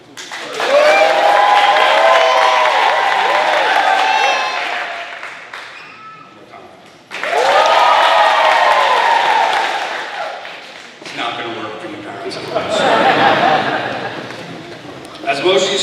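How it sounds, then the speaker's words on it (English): A school audience at a fifth grade moving-up ceremony bursts into loud cheering and applause twice in quick succession, then a quieter, scattered wave of clapping and chatter rises near the end. "When I hold up this, you have to cheer very loudly."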